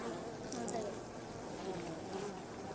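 A steady, dense buzzing of many honey bees close by at a wild hive in the bush, droning continuously without pause.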